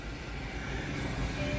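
A train rumbles past close by at a metro station, giving a steady loud roar of wheels on rails with a faint squeal near the end and no voices.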